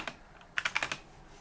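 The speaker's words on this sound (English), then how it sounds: "Don't mind my typing skills." Quick burst of typing on a computer keyboard, about five close, crisp keystrokes clustered together after a faint isolated tap, with no voices.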